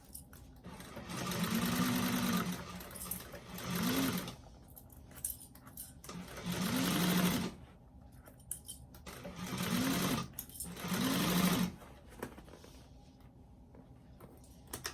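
Sewing machine stitching a bag seam in several bursts of steady whirring, each starting with a short rising motor tone, separated by quiet pauses with light handling clicks, close and clear.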